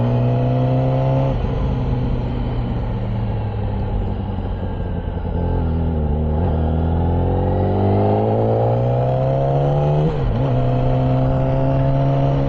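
Motorcycle engine droning steadily while riding at night, a loud close-up hum that rises and falls in pitch with throttle changes and a brief dip near the end.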